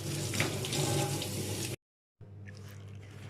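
Tap water runs into a kitchen sink to wet baking paper for an oven-baked potato and meatball dish, a steady close splashing gush that cuts out briefly and then resumes a little quieter.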